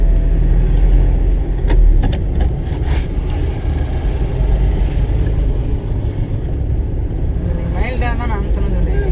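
Car engine during a driving lesson as the learner shifts into third gear, a steady low rumble running close throughout with a few brief knocks, while people talk over it.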